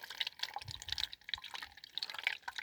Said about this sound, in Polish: starajcie się tak to przelewać, żeby e, nie trafiały żadne większe śmieci